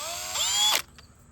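A power drill with a polishing attachment for headlight restoration whirs up briefly for under a second, then cuts off, leaving a faint mechanical click afterward.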